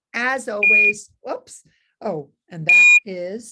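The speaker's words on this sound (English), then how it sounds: "That's the alarm that's telling me it's time for them to adjust their glucomander." Beeping alarm from Glucommander insulin dosing software in a hospital glycemic control setting, two bright steady tones sounding briefly amid ongoing speech.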